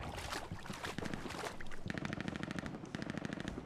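Rapid machine-gun fire in the WWII shooter Hell Let Loose, an even rattling stream of shots that starts mid-clip and runs steadily to the end over busy battlefield noise.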